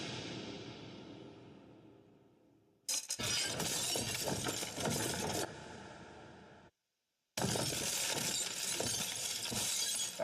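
Stone towers beside a gate crumble and break apart, a film sound effect: a long fading rumble is followed by two loud, dense bursts of shattering, cracking debris, separated by a sudden silence.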